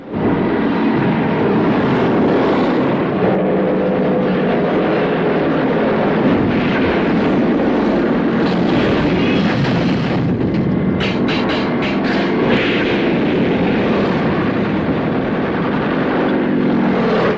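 Japanese warplanes attacking Pearl Harbor, Hawaii, with parked American fighter planes being bombed: a loud, continuous roar of aircraft engines and rumbling blasts fills the scene without pause, with brief crackling bursts partway through.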